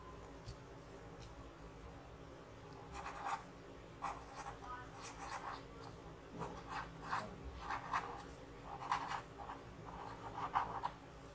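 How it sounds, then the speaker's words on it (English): A pen writes on paper, close and quiet scratching in short irregular strokes with brief pauses between them. "On the paper, you are going to write your wish that you want to come true."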